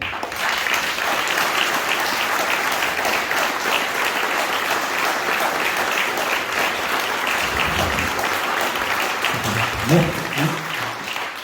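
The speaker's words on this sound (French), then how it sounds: "je crois que, très honnêtement, on peut les applaudir" Audience at a mayor's New Year address and greetings ceremony in a French town breaking into sustained applause, dense and steady clapping from a large crowd, loud and unbroken, with a few low voices surfacing near the end.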